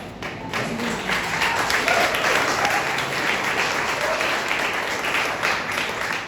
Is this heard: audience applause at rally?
yes